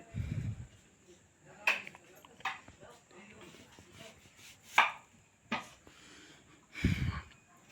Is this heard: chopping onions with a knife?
yes